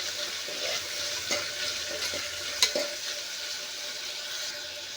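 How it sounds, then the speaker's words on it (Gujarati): Mixed vegetable dal khichdi being stirred in a pan, a steady soft sizzle with a few scraping spoon strokes, no voices. "હવે આપણે આને એકવાર મિક્સ કરશું."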